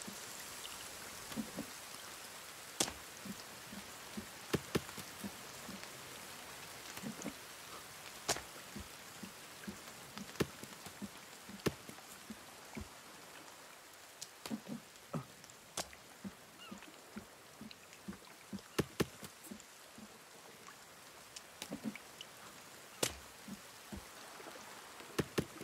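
Steady rainfall in the video game The Forest, with scattered louder drops tapping on surfaces, continuous and fairly soft, with no voices.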